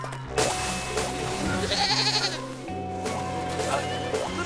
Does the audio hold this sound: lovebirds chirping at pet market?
no